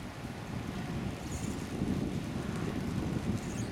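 Steady, strong wind roars and buffets the microphone, a constant low rushing noise that swells slightly partway through, with no voices.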